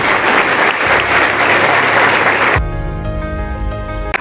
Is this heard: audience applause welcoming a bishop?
yes